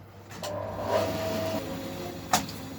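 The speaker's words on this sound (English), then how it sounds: "You can hear how much more the bandsaw has trouble cutting maple than the order for the body." A bandsaw cuts through maple for a late-'60s Strat-style guitar body, a steady whining drone with a strained tone, broken by a couple of short sharp knocks, close by and without talk.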